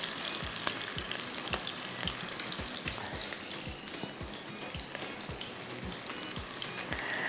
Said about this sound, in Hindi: ये रहे हरी मिर्च, प्याज, थोड़ा सा आपने इसको फ्राई करना है।